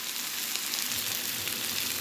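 Salmon with tomatoes and zucchini squash sizzles steadily in a hot pan, a dense, bright frying hiss heard up close with no talking.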